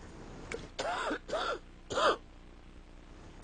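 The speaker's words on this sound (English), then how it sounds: "Since I can't stop coughing, we will resume at this point tomorrow." Three quick harsh coughs in succession, fairly close and moderately loud, separated by short pauses, with no talking.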